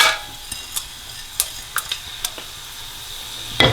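Whole garam masala spices sizzle in hot oil in a pan, a low steady fry broken by scattered sharp crackles and pops, with a spoon stirring now and then.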